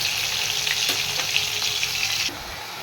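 Tomato, ginger and cumin frying in a pan, a bright close sizzle with a few clinks and scrapes of stirring, steady and loud before dropping off abruptly near the end, with no voices.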